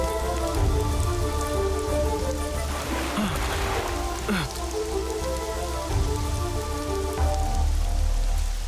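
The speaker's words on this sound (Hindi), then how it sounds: "खुद बारिश में भीग रही हो" Rain falling steadily on a surface, a dense close patter that runs throughout, with a few brief louder splashes and handling noises partway through.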